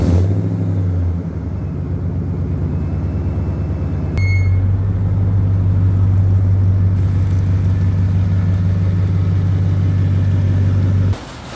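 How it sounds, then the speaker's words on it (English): A Chevrolet Silverado engine idles and rumbles steadily, close and loud, with a mechanical shift partway through as the truck backs out; no talk. "I am gonna back this car out because it's about to rain"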